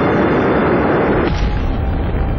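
A nuclear weapons test blast, a deep rumbling roar that swells sharply at mid-clip into a heavy, loud boom and then rolls on as a low sustained rumble.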